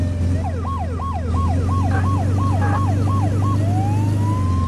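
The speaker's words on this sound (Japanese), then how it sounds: "サイレンはいつも通り。" An ambulance siren in the emergency-services game Flashing Lights wails in a steady, rapid two-tone pattern over a loud, constant low engine drone, close and prominent throughout.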